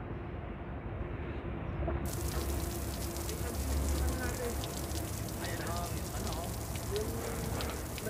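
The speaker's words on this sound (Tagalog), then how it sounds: "Umuulan dito ngayon sa Qatar." Steady rain in Qatar pattering on a surface, a dense continuous hiss with faint sizzling drops, constant and close for the whole stretch.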